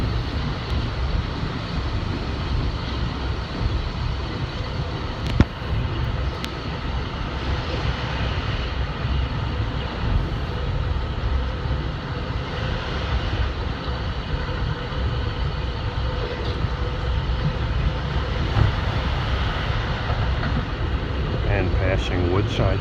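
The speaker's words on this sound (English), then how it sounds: "passing Woodside Station with the number 7 subway train overhead between Flushing and Manhattan" An LIRR M3 electric train rolls past Woodside Station in Queens with the number 7 subway train running overhead, a steady, loud, close rumble lasting throughout with a couple of sharp clanks and no talk.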